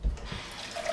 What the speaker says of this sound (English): Okay, hot water going.